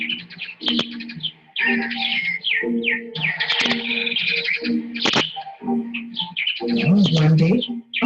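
Many birds chirp and call in a busy, overlapping chorus from a banyan tree full of nests, with coos and tweets mixed in and a voice talking over them.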